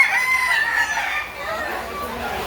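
A rooster, one of a flock of gamecocks around nine months old, crows once nearby, a strained rising call that trails off as other birds murmur, with background chatter.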